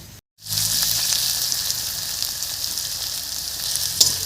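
Onion and finely chopped green chilli frying in a pan for an egg dish, a steady close sizzle that starts after a brief silence and continues evenly with a small pop near the end.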